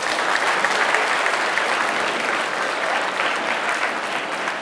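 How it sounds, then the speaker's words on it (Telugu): Students in a classroom clap loudly together, a dense, sustained burst of applause that holds at steady volume for several seconds with no speech over it. "ఒకసారి గట్టిగా చప్పట్లు కొట్టండి"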